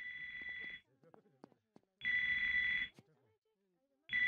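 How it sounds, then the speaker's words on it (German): Cartoon mobile phone ringing from inside a man's back after surgery, heard as electronic ring bursts of about a second each with pauses between, muffled in tone, with brief bits of talk in the gaps. "Dr. Hartmann hat sein Handy bei der Operation in seinem Rücken vergessen."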